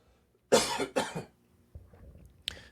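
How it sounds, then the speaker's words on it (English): A man coughs twice in quick, harsh, loud succession up close, then follows with a few softer throat-clearing coughs, with no talking. "excuse me, I got a cough."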